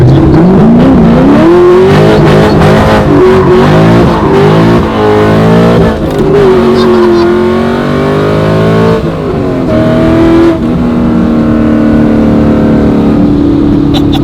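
A Lamborghini engine revs hard and loud, rising and falling in pitch through several throttle bursts, close by and sustained throughout.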